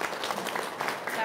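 A brief burst of audience clapping at an Indonesian gathering, many hands patting steadily at close range while someone talks over it.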